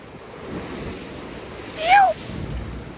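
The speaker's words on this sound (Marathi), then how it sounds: "डायरेक्ट पाणी वर येऊ राहिलं डायरेक्ट" Steady rushing surf at Japanese Garden, Goa, sea water churning and breaking against rocks, with a brief whistling tone rising near the end.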